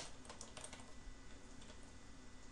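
Continuous quick typing on a computer keyboard while laying out type on a document, a steady patter of soft key clicks close by with no voices.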